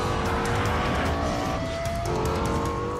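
A Lexus LFA with its V10 engine runs at speed on a racetrack, a steady loud roar with a rising and falling whine and faint tyre noise underneath.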